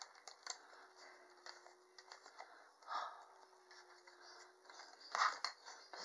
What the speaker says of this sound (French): Donc on coupe son bois.